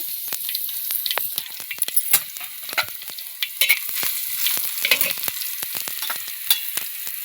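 Curry leaves and garlic hit hot oil in a pan while cluster bean palya is being cooked. A steady sizzle is broken by frequent sharp crackles and spits, loud and close, with no one speaking.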